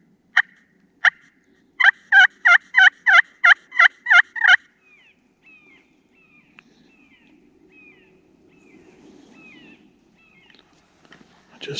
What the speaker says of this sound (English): This call that Newman and Brown made for me is really nice. It's got a good sound once I got the striker just